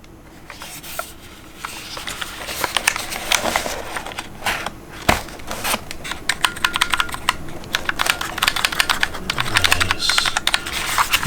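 Typing on an HP 430 programmable wireless keypad fitted with Kailh low-profile brown switches: a steady, close run of light clicky keystrokes, tapping irregularly throughout with a few heavier presses.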